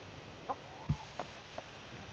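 Chickens eating from a hand, giving a few soft, spaced clucks over quiet background, each short and close.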